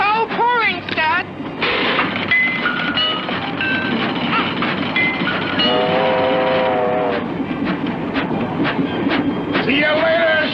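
A cartoon train rumbles along with steady clickety-clack and a wavering horn or whistle sounding near the start and again mid-run, while voices talk over the busy soundtrack.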